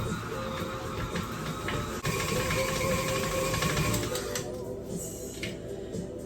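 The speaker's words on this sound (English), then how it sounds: "And then I'll increase the speed, let it mix the butter by itself a little bit" Stand mixer running at low speed while it mixes butter, a steady close mechanical whir and rattle with a slight drop in level partway through, no talking.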